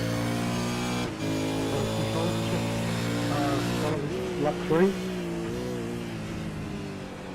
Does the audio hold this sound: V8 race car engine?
yes